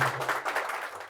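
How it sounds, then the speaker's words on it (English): A studio audience gives a brief round of applause for a podcast guest, a soft, fairly distant patter of many hands that stays steady throughout, with a faint low hum underneath. "A big round of applause for Bhuwan."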